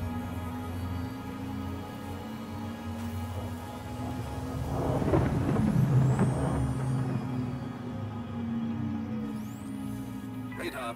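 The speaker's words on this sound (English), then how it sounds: "Quantum drive is now on." A quantum drive runs in the space game Star Citizen. It sounds like a steady low hum that swells into a rushing, hissing surge midway, then settles back to the drone.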